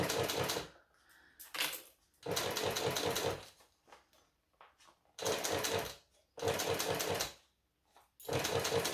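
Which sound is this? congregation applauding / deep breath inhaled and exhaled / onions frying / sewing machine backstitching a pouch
sewing machine backstitching a pouch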